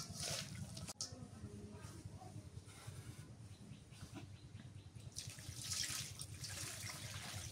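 Water pours steadily into a cooking pot of potatoes and small fish over a village stove, a continuous splashing trickle with faint background noise throughout.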